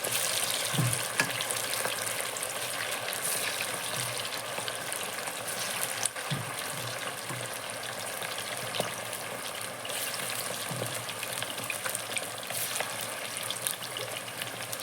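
Nadan thattukada-style chicken fry crackling in hot oil on a medium flame, a steady close sizzle with occasional soft knocks and stirring sounds, no talk.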